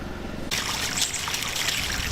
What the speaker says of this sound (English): 2 weeks of running water on American Avenue is too much